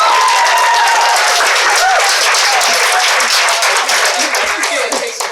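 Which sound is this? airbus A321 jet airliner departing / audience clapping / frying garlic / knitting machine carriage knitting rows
audience clapping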